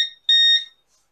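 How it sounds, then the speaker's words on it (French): A kitchen scale gives two sharp electronic beeps during a live session baking a chocolate-mint ganache tart with flower shortbreads: a brief one, then a longer, louder tone, close and clear with no talking. "on a un bip, je sais pas ce que c'est. Bon. Ah, c'est la balance."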